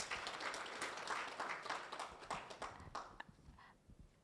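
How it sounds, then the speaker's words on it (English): A conference audience claps for speakers at the end of a session, scattered hand claps swelling briefly, then thinning into a few quiet taps as it dies away. "Can we give them a clap?"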